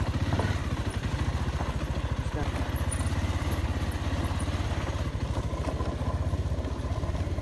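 Engine of a motorcycle on a cold early morning ride near Kathmandu, a steady, throbbing mid-pitched drone with rapid, even pulses and faint clatter, running unbroken throughout.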